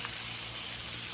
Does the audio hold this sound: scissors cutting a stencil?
no